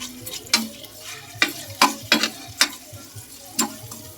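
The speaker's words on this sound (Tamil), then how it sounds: "லைட்டாக இப்படி கிண்டி விட்டுக்கோங்க" Spices frying in hot oil for a basmati rice biryani, stirred with a spoon in a pan: a soft sizzle under several sharp scraping clicks at uneven intervals, close by, with no talking.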